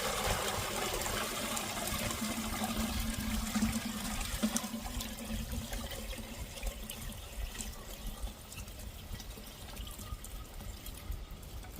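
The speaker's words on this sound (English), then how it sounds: "just pour it into the other bucket" Water and clay slurry being poured from one bucket into another, a soft continuous trickle and splash heard close up and fairly quiet, fading gently toward the end.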